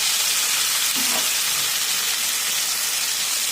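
Ginger, cumin, chilli and green peas fry in hot oil for a rohu fish curry with potato and aubergine, giving a loud, continuous sizzle with a faint stir of the pan.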